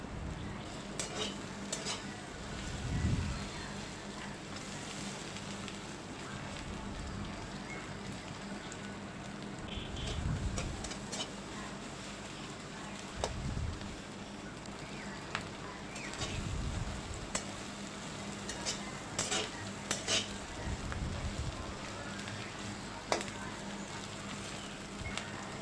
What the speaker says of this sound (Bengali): পেঁয়াজ কুচিটা দিয়ে ভালো করে নেড়ে চেড়ে নেব। পেঁয়াজটা আমি ভালো করে একটু ভেজে নেব।